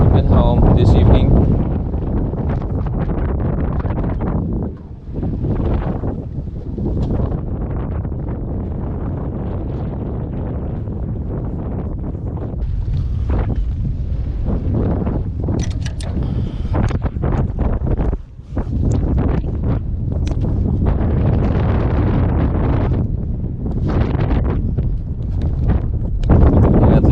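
Strong wind buffeting a Bavaria 33 sailboat, loud continuous roaring gusts and microphone rumble throughout, with water and rigging noises underneath and occasional talk mixed in.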